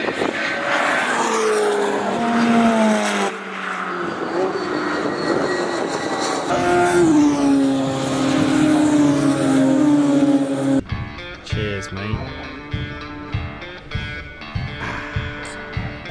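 GT Cup race cars circle the track at Donington Park, engines howling past one after another with rising and falling pitch, then a harsher, choppier engine note under gear changes, loud and fairly close.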